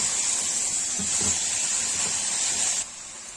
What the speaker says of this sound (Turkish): Salçayla beraber onu da biraz kavuruyorum.